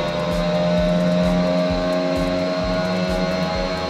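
F1 2021 race car on a PS5 driven with a Logitech G29 wheel accelerates, its engine a loud, steady high-pitched whine with a rhythmic pulsing buzz underneath, heard alone.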